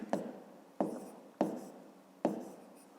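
Pen or chalk writes numbers during a fifth-grade maths exercise, four short sharp strokes at roughly even intervals, close and fairly quiet.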